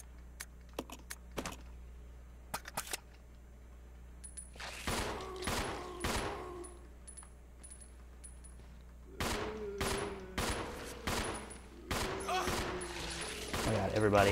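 Gunshots in Resident Evil 0 ring out in sharp bursts, first a few faint isolated shots, then clusters of louder rapid fire in several volleys. The shots come in irregular groups and are close but moderate in level.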